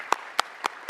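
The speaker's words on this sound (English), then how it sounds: "Round of applause for all the wonderful food we eat every year." Four sparse, evenly spaced claps ring out at a city council meeting, crisp and close against a quiet room.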